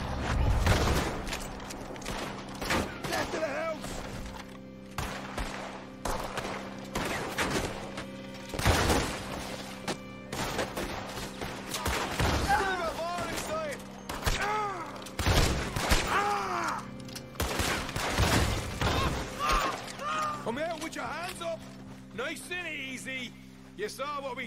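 Gunfire in a Red Dead Redemption 2 shootout, repeated loud shots and bursts scattered across the clip with game music and effects underneath, and someone talking at times.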